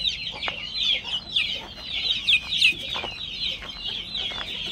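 Chickens cluck steadily close by at a coop, a busy overlapping chatter of several birds with short sharp calls and no voices.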